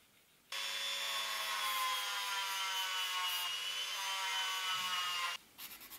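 A Dremel-style rotary tool with a sandpaper head sands down a small part, starting abruptly as a steady high whine with a gritty rasp, running evenly for about five seconds, then cutting off.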